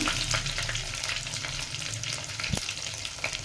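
Crushed garlic sizzling and crackling steadily in hot oil for a tempering, a dense continuous fry with one sharp pop partway through.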